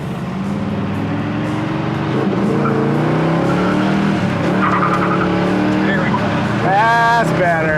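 A 1966 Chevelle SS pulling away down the road on a cold carburetor, its engine droning loud and close, rising in pitch as it accelerates, with a voice talking over it.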